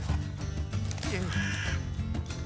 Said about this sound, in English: How'd a fucking bird get in here?